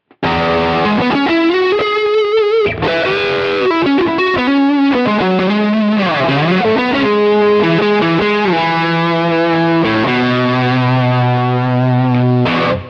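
A heavily distorted electric guitar through fuzz boosted by an overdrive plays sustained notes and bends, thick and loud with a gritty, saturated tone throughout.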